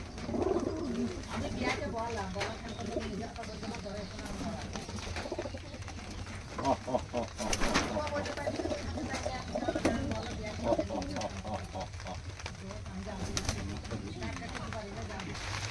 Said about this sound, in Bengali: রামপুরি পায়রা দেখাচ্ছি